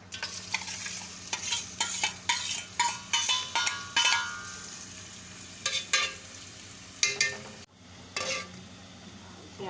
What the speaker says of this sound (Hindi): तो इसके बाद इसमें मैं प्याज ब्राउन करूँगी